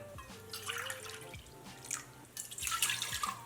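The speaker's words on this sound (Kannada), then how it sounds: "ಕ್ಲೀನಾಗಿ ಮೂರ್ನಾಲ್ಕು ಸರಿ ತೊಳ್ಕೊಳ್ಳೋಣ" Water splashes and drips in a sink as rice and lentils are swished and rinsed, with sloshing bursts growing louder toward the end; no talking.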